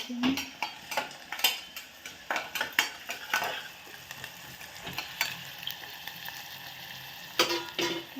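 Phodnicha bhat, Maharashtrian tempered rice, cooks in a pan with a soft sizzle beneath frequent clattering scrapes and taps of a spoon against the metal, irregular and close.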